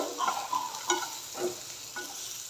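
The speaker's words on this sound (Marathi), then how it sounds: "व्यवस्थित मिक्स करून बारीक ना हे परतून आपल्याला ठेवायचं आहे जेणेकरून टोमॅटो आपला परफेक्टली कुक होतो" Tomatoes with coriander powder and salt sautéed in a pan, a soft steady sizzle broken by several scraping strokes of a spoon stirring through the mixture, close and fairly quiet, with no talking.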